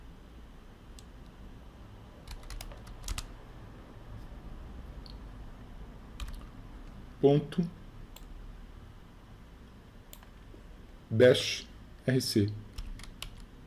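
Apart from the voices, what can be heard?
typing a command on a computer keyboard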